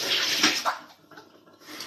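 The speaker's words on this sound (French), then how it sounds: "Je rince mon aloe vera." Aloe vera is rinsed under running tap water, a close, steady splashing stream that eases off briefly toward the end.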